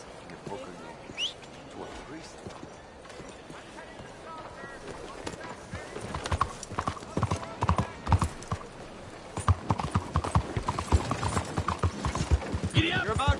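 Horse hooves clip-clop steadily in a video game, growing louder and faster partway through, with occasional whinnies while a voice talks over the rhythmic beat.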